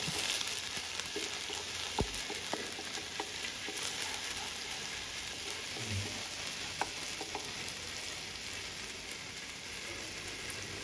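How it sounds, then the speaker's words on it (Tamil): Oil sizzles steadily as ginger garlic paste fries in a pan for chicken varuval, with an occasional clack of a utensil stirring. "அந்த இஞ்சி பூண்டு அந்த ஆயிலில் ஃபுல்லாக ஃப்ரை ஆகட்டும்"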